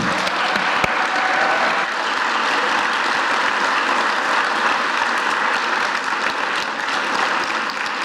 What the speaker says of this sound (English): could we have applause for both of our candidates?